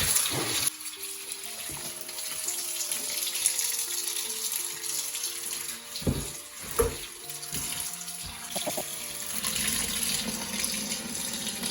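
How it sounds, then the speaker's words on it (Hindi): Running water from a tap splashes steadily over vegetables and nettle leaves as they are washed by hand, with a continuous rush broken by brief clatters and splashes, and soft musical tones beneath. "तो अब ये जो हमारी सब्जियां हैं इसको हम अच्छे से रनिंग वाटर के अंदर अच्छे से"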